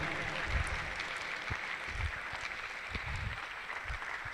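Audience clapping at a Microsoft Learn community event in Akure as a mentor walks to the stage; moderate, steady applause with scattered louder claps and low murmuring voices.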